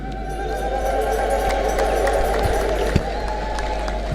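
A large crowd at an Ethiopian Orthodox church gathering for the Lalibela feast ululates in a loud, sustained, high trilling wave, with scattered claps and general crowd noise beneath it.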